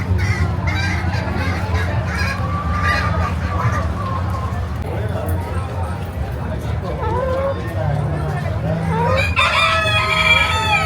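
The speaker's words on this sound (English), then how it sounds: "I just love chickens and roosters." Chickens cluck and a rooster crows in the poultry barn at the Osceola County Fair in Kissimmee, Florida, with a loud crow near the end, amid children's voices and people talking.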